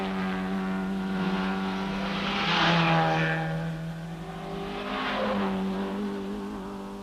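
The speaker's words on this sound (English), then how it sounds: "The Ferraris, of course, look and sound magnificent." Ferrari racing cars in the 1964 Tour de France Automobile roar past on a French road circuit, a steady engine drone swelling twice as the cars pass close and loud, then fading, with no talking.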